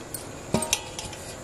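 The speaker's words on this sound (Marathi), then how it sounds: "आणि लाटणीने ढवळते मी" A wooden rolling pin stirs flour into boiled water in a pot to make dough for turmeric-leaf patole, giving two or three short knocks and clinks against the pot over quiet room tone.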